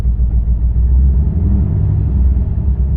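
A Ford Mustang S197 with the 3V engine idles smoothly after a misfire repair, giving a steady, even low rumble with no stumbles, close and continuous throughout.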